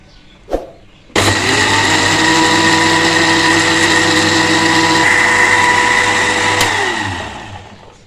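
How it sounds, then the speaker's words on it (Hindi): An electric blender mixes vanilla cupcake batter ingredients. A click is followed by the motor kicking in loud and close with a steady whirring whine for several seconds, then winding down to a stop. "और अब हम इसको ब्लेंड कर लेंगे।"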